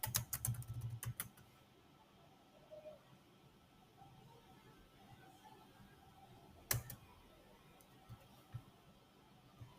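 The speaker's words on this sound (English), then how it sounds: "So if you type something, for example, I type here," Faint keystrokes on a computer keyboard, a few quick clusters of clicks near the start and one sharper tap later, over a quiet room hush.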